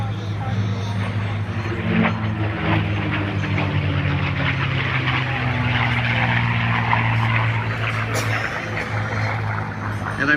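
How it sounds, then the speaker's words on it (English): A P-40 Warhawk and a Spitfire, propeller warbirds at a World War Two weekend airshow, drone past in a low, steady rumble that swells and fades, with a voice talking over it. "Beautiful photo pass by the P-40 Warhawk. And the Spitfire."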